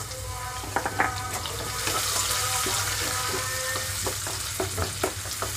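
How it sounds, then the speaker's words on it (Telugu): Chopped onions and green chillies fry in hot oil in a pan for a tindora masala curry, a steady sizzle broken by scraping stirs and clinks of a spatula, with no talking. "ఉల్లిపాయలు కొంచెం దోరగా వేయించుకుంటున్నాను."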